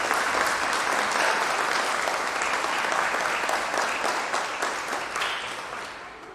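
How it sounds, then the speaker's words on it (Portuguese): A congregation at a live church Bible class claps together in loud, steady applause. It holds for several seconds, then tapers off slightly at the end. "vamos dar um aplauso a Jesus"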